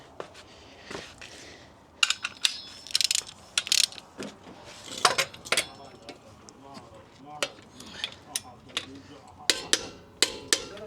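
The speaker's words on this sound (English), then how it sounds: "let's just double check using our torque wrench" A torque wrench checks bolt tightness on heavy parts, giving sharp ratcheting clicks and metallic clinks in irregular bursts, with a person talking intermittently between them.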